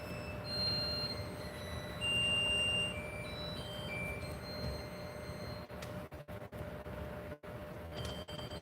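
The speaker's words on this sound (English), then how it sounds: "there go the timer" A kitchen timer beeps in a series of steady electronic tones in a home kitchen during bread-dough prep, standing above a constant broadband background hiss, with no talk.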